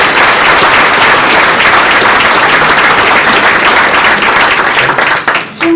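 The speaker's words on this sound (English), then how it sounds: "if we could give them a round of applause" A gala audience at the Windsor Shad Derby gives a loud, full round of applause, sustained dense clapping from a large crowd that drops off abruptly at the end.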